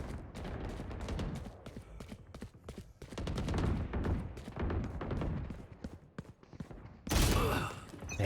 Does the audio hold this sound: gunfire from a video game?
yes